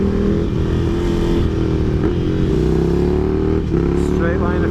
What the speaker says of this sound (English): I just love the music of the Ducati.